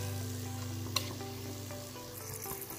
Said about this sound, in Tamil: ஸோ பிரியாணி மசாலாஸ்லாம் நல்லா குக் ஆகிட்டுருக்கு பாருங்கள்.